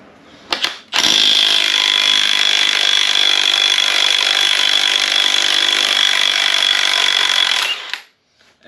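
A pneumatic impact wrench on a standard socket removing the yoke from a destroyed Jeep TJ transfer case, a brief blip then a loud, steady, high-pitched sustained whir for about seven seconds that cuts off abruptly.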